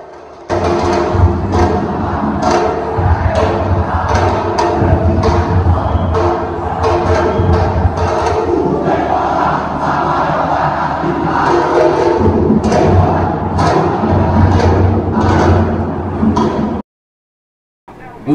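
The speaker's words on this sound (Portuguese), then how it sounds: "telões que utilizam gritos reais da torcida para dar a sensação de que estamos dentro do estádio" Recorded shouts and chants of a real football crowd play loudly through screens in a football museum, a dense continuous roar with rhythmic bursts and thumps, cutting off abruptly near the end.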